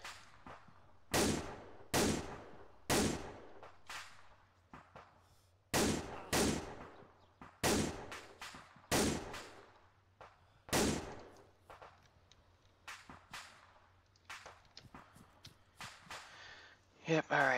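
Tank ammunition cooking off in the WWII game Iron Front, a series of loud, sharp explosive cracks and bangs in irregular bursts, some near and some echoing, over a low steady hum.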